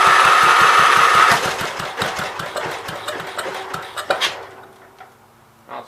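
An old 526 engine, blowing blue smoke and burning oil, cranks with a loud rapid chugging that surges, then stumbles and sputters into uneven pops and fades toward silence as it fails to keep running.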